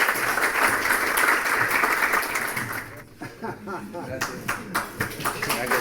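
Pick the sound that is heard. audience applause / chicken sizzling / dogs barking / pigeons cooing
audience applause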